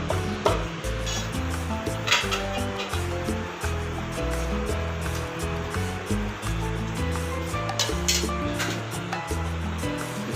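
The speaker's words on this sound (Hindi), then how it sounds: "ये अच्छी तरह मिक्स कर देंगे, पास्ता भी और कीमा भी और अपने सारे मसाले भी।" Pasta, minced meat and spices stirred together in a pan give a steady, dense sizzle with a continuous rhythmic scraping of the spoon, close and fairly loud, with no talking.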